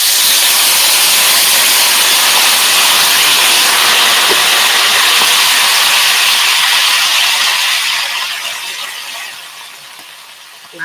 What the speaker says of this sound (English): the sort of harsh intensity of the water hitting the pan